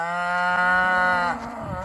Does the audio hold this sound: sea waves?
no